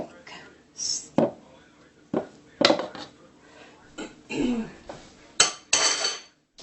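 Bread batter scraped out of a mixing bowl, a series of separate scraping and knocking strokes at irregular intervals, close and fairly loud, with quiet gaps between them.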